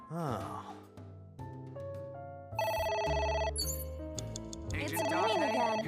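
A telephone rings in the video game AI: The Somnium Files, with repeated electronic ringing tones layered over game music and effects, fairly faint in the mix.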